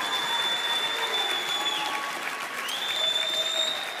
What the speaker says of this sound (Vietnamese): May the people of God give him an applause tonight.